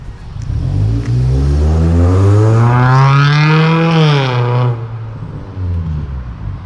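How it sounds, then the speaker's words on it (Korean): A naturally aspirated Hyundai LF Sonata with full variable exhaust and muffler tips, valves open, accelerates hard, its engine note rising loudly through the revs, peaking and then dropping off as it eases. "LF 소나타 지금 밖에 나왔습니다. 가변을 열고 주행 한번 해보겠습니다."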